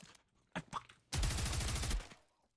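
Assault rifle gunfire in a video game: a few separate shots, then a long, loud, sustained automatic burst that cuts off abruptly, with no talk over it.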